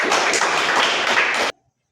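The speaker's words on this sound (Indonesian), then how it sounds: "Tepuk tangan untuk kelompok 4." A classroom applauds a student group with a short burst of lively clapping that stops abruptly.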